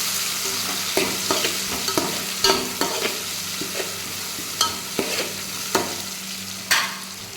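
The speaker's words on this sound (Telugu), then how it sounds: "ఇప్పుడు టమోటాలు వేసాను. టమాటా వేసి కాసేపు మగ్గనిద్దాం." Tomatoes cook in a pan with dried red chillies, giving a steady close sizzle punctuated by repeated scraping stirs at an uneven rhythm, with no talking over it.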